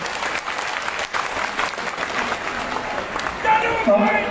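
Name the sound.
applause from the crowd in Nagrota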